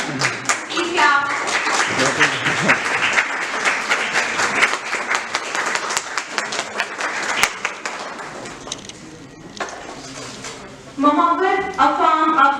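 Audience applause rings out at an international business strategy conference, a long dense stretch of clapping that fades, then a burst of cheering and clapping returns at the end, with voices heard in the room.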